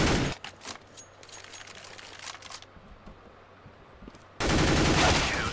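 Gunfire in a one-on-one aim duel video game, with loud rapid bursts at the start and end and scattered lighter shots between them, sounding close and sharp.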